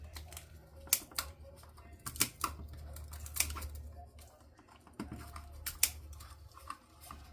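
Scissors snip through crinkly holographic Easter grass in short, irregular cuts, each a crisp close snap over a low steady room hum, alone without talk.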